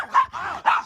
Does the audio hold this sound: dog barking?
yes